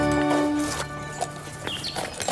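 A working horse walks on a wartime farm, its hooves clip-clopping in an irregular rhythm over a droning mechanical hum, with some faint background noise.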